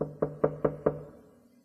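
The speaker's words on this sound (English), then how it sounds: "At Stella Vixen's door, he stopped and knocked quietly." Four quiet, evenly spaced knocks on a door, close and hollow, each decaying quickly before a brief fading tail.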